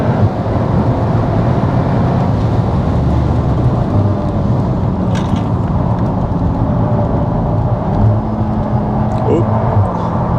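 A VW Golf R Mk8 is driven flat out on a track, and its engine and road noise make a dense, steady in-cabin drone while people talk over it.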